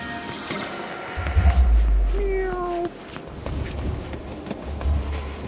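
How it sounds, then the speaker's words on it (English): A cat meows in the horror game Apsulov, a few clear calls over low rumbling ambience and soft footsteps, fairly close and loud. "Meow."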